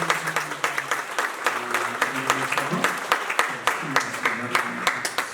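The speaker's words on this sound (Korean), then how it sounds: "뜨거운 박수 한번 해주세요" Warm applause from a church congregation during a Sunday service, a steady patter of many hands clapping nearby for several seconds, with a few voices mixed in underneath.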